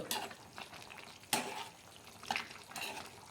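Mutton fry with masala being mixed in a pan, a few soft scrapes and knocks of a spoon against the pan over a faint low sizzle, close but quiet.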